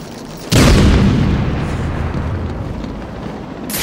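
A grenade goes off in Batman Arkham City with a single heavy, close boom that rolls on as a sustained roar for several seconds, with no speech over it.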